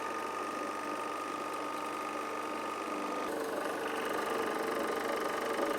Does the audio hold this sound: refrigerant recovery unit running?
yes